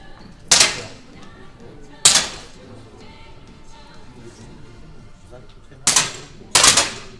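Four loud, sharp rifle shots ring out at irregular intervals in a shooting competition, with quiet background murmur between them.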